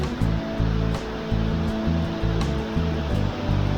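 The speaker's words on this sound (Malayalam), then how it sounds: "ഇതാണ് കല്ലാർ മീൻമുട്ടി വെള്ളച്ചാട്ടം." Kallar Meenmutty waterfall rushing in a steady, loud roar of falling water heard close by, a continuous broadband wash with no voices.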